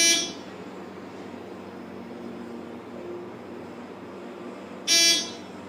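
A short buzzer on a ThyssenKrupp hydraulic elevator in a parking garage sounds at the start and again near the end, each burst brief and harsh over a quiet, steady background hum.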